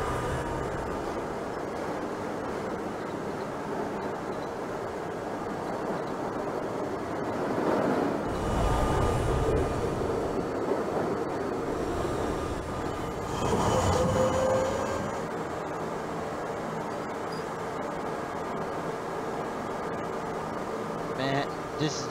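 A New York City J subway train in Trainz Simulator 2012, running from Jamaica Center to Broad Street on the Myrtle viaduct, gives a steady rolling rumble that swells louder twice midway, with a faint wheel squeal.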